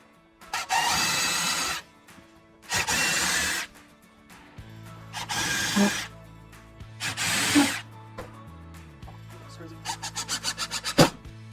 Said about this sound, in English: So I am going to put a couple more screws in the centers of both of them.